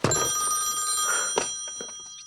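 A telephone rings with a steady electronic bell tone, heard up close and alone, fading over about two seconds, with a couple of soft knocks in between.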